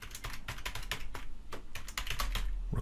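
Rapid clicking keystrokes on a computer keyboard, close and steady, in irregular bursts with a brief pause near the middle and no talk.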